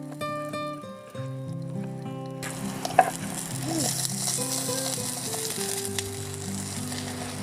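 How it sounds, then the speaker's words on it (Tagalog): Garlic and then onions sauté in a pan at an outdoor campsite in Real, Quezon, a loud sizzling hiss rising after a short musical opening and continuing under background music. "So gisa na natin guys. Unahin natin yung bawang."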